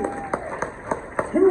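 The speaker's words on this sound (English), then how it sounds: "Continue applauding," Claps ring out in a regular, spaced rhythm from a crowd at a charity auction during a late-night furry convention show, several distinct hits over crowd murmur, ending in a louder swell of voices.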